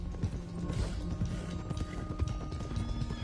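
Horse hooves in the video game Red Dead Redemption 2 clatter in a quick, steady clip-clop as horses are driven along at pace, with busy game ambience underneath.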